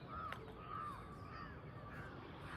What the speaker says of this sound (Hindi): काँव काँव की आवाज़ आ रही है तो कौवे आने लग गए हैं।